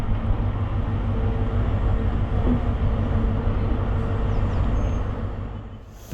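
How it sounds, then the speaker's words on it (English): A narrow gauge train arrives at a station, giving a steady low rumble of rolling wheels and running gear that fades slightly toward the end, with no voices. "At last, the train arrives."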